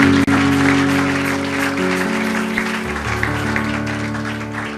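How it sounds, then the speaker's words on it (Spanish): A church congregation applauds during a sermon, steady clapping running throughout while sustained organ or keyboard chords play underneath and shift pitch partway through. "Dale un fuerte aplauso al Verbo de Dios"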